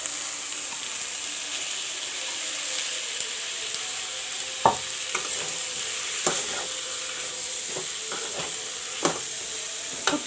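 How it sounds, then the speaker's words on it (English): Sliced onions and potatoes frying in a pan with mustard and garlic, a steady soft sizzle with several sharp scraping stirs of a utensil against the pan, close and without talk. "And let the onion and potato fry a bit."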